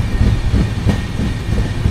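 A train rumbles along the rails in heavy, close, continuous low noise with faint rhythmic clatter, heard from on board as rain sets in outside.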